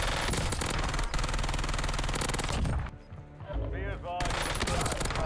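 An MK35 rifle in Warzone fires in a rapid, dense burst, loud and sustained, briefly dropping off midway with a short pause before the fast fire resumes.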